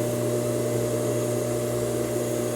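A sewing machine stitches the side seam of a blouse, giving a continuous, steady mechanical hum with a fixed pitch that stays loud and close throughout, with no pauses and no talk.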